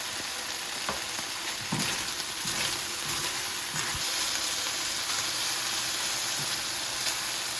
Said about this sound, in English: I have 3 cloves of minced garlic. I'm just putting about half of it in there.